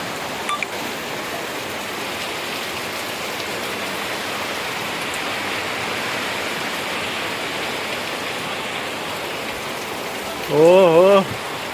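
Heavy rain pours down steadily for the whole stretch as a dense, even wash of noise, and a brief wavering tonal sound cuts in near the end.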